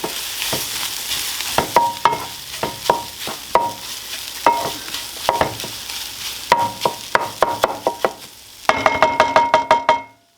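Eggs, overnight-cooked beans and potatoes frying in a pan with hot sauce, stirred with repeated close scrapes and clacks of a utensil over a sizzle, ending in a fast burst of rapid knocks against the pan.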